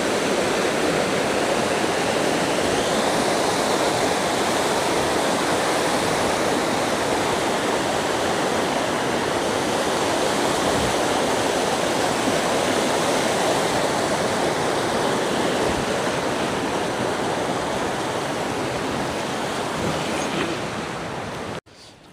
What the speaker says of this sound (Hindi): ये अबशार है, और ये पहली अबशार थी इस ट्रैक में।